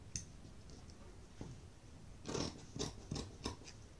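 Scissors snipping through fabric while cutting a baby dress shoulder and neck, a run of close, crisp clicks and snips, quiet, with several quick cuts bunched near the end and no talking.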